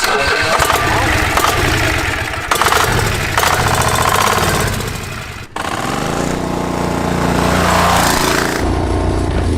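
A large Chinese diesel V-twin on a go-kart cranks, catches and runs with a loud, rough, chugging idle and revving that fills the whole stretch, with a brief cutout and restart partway through.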